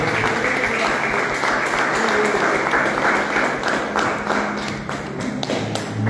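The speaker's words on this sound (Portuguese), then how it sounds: "Den un aplauso al Señor, hermano." A church congregation claps in praise, steady rhythmic applause with thumping taps, heard in a reverberant hall alongside a faint voice.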